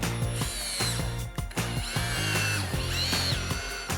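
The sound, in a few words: drill driving screws through chair back slats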